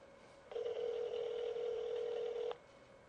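An automatic telephone dialer tone sounds steadily for about two seconds as it calls the next number, a clear sustained electronic tone over quiet background with no talking.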